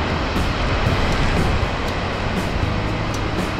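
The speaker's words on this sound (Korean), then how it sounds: "여러분 바로 이게 비안디 폭포입니다" Dynjandi waterfall in Iceland's Westfjords roars as a steady, dense wash of falling water, heard close and loud without interruption.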